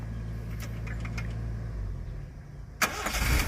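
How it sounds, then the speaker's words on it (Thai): A car engine hums steadily at low idle during a driving lesson, then climbs sharply in a louder rev near the end as the accelerator is pressed. "เหยียบคันเร่งช่วยเร่งรอบเลยสองพันรอบ"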